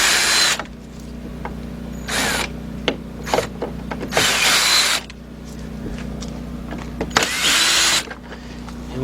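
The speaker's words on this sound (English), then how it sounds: "So we got our little cordless gun. We got a 1/4-inch drive." A cordless impact gun with a 1/4-inch drive works the headlight bolts on a 2007 Volkswagen Passat 2.0. It gives several close, loud whirring bursts of a few seconds each, separated by quieter clicks and handling noise, with no talking.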